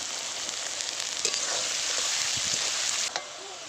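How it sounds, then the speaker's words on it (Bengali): Chopped onions fry in a pan for a chicken curry, sizzling loudly and steadily up close with scraping stir strokes and a few utensil clicks. "পেঁয়াজটা দেখুন কত সুন্দর ভেজে নিয়েছি লাল লাল করে"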